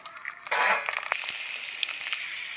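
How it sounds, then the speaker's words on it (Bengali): Chopped onion frying in hot oil with nigella seeds in a wok, a steady close sizzle that swells loudly after the first half second and keeps crackling with small stirring clicks. "কড়াইতে আমি তেল দিয়ে দিচ্ছি কালো জিরে ফোড়ন দিয়ে দিচ্ছি কুচিয়ে রাখা পেঁয়াজ"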